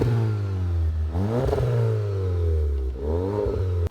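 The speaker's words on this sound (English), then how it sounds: "the only thing that I really don't like is the droning from the exhaust" A modified Volkswagen GTI Mk7 engine drones loudly through the exhaust as it accelerates, pitch climbing through gear changes, close and continuous.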